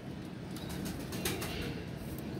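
A pigeon flutters and shakes its wings in a few soft, quick flaps close by, over a low background hum.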